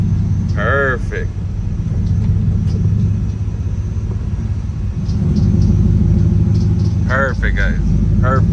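A turbocharged Coyote-engined Fox body car runs with a steady, loud low rumble throughout, while someone talks briefly near the start and again near the end.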